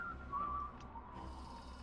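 A game character whistles a faint, wavering tune in Dishonored 2, soft and thin over a low ambient hum, with no talking.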